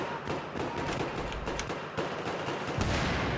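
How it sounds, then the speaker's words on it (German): Gunfire in Battlefield 3, a steady stream of rapid shots crackling throughout at moderate distance, with a slightly heavier burst near the end and no talking. "Hey, wo wird denn da geschossen?"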